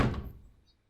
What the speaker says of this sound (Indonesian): Tepat pukul 11 malam, tiba-tiba ada yang mengetuk pintu.